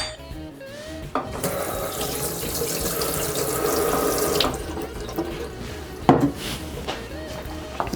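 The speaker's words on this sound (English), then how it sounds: "Let's get that blade out of there, give it a rinse." A blender blade rinsed under a running kitchen tap, a steady rush of water into the sink with the stream shifting as the blade moves through it, ending with a few clatters.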